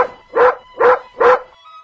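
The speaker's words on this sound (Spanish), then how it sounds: "Shh, Lisa, está ladrando el perro." A dog barks three times at an even pace, loud and close, each bark short and full-bodied, with quiet pauses between them and no talking.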